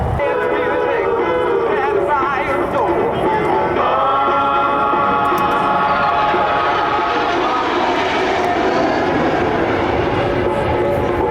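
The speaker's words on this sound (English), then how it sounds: "The aircraft's accelerating and departing to set up for its next pass" A military jet at an air show accelerating and climbing away after a missed approach, a loud sustained engine roar with rising and shifting whine that fills the whole stretch, with a commentator's voice over it.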